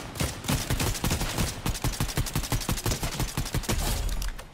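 Fortnite gunfire from the player's own weapon: a fast, loud, evenly spaced burst of shots rattling continuously for several seconds.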